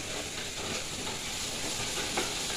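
Beef with turmeric powder sizzles in a pan, a soft steady frying hiss with faint stirring scrapes, close but fairly quiet and continuous with no voices.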